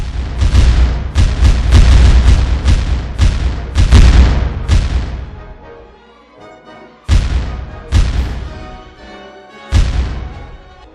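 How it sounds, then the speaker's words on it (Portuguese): Heavy booming Paraguayan cannon blasts mixed with crackling volleys of rifle fire from land at ships on the Paraná River, a dense barrage that fades, then several more loud, separate explosions. "sob os tiros dos canhões paraguaios e da fuzilaria de terra"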